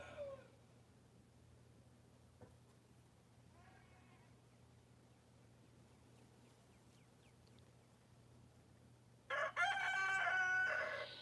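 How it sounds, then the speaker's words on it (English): A rooster crows loudly near the end, a strained harmonic call after a stretch of quiet outdoor hum with a faint cluck earlier. "watch this crazy rooster."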